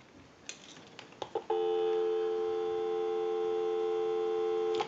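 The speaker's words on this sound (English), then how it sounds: "We'll go ahead and give you some dial tone." A single-slot payphone gives a steady, loud dial tone of paired pure tones that holds alone for over three seconds, preceded by a few faint clicks and ticks as the line is picked up.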